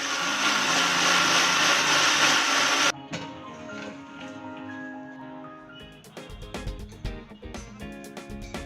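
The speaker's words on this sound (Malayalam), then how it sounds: "ഒരുവിധം അരഞ്ഞ തേങ്ങയിലേക്ക് മസാലകൾ ചേർത്ത് വീണ്ടും വെള്ളം ചേർത്ത് അരച്ചെടുക്കുക" A mixer grinder runs on coconut with spices and water for a Kerala chickpea curry, a loud, close, steady whirring roar for about three seconds that cuts off abruptly, followed by scattered clicks and clatter as the jar settles.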